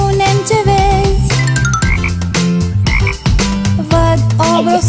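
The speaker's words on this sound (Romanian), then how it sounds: "Văd o broscuță." Frog croaks in a Romanian children's summer song, repeated rhythmic croaking voiced over bright music with jingling accents, loud and continuous throughout.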